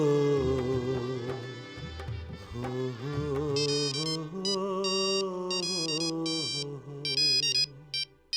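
A phone ringtone plays a repeating electronic melody for several seconds, loud and close, with bright chiming tones in the later part, ringing on unanswered with no one speaking.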